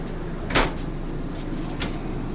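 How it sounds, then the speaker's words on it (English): A sliding barn door with a latch inside an RV at an RV show is worked open or shut, giving a sharp knock followed by softer thuds and rattles over a steady background hum. "this is a barn door, which does latch"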